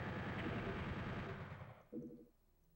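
Turret gunfire in Doom 64, a fast rattling stream of shots, fairly loud, that stops abruptly toward the end and leaves a few faint game sounds.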